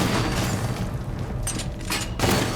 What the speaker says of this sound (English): only at level 4 is it a missile barrage